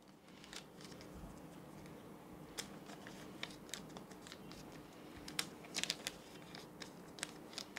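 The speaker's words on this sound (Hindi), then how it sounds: "अब हम लिस्ट को फोल्ड कर देते हैं" A paper list is folded by hand, giving faint, soft crinkles and dry rustling with a few light clicks against a quiet room hiss, with no voices.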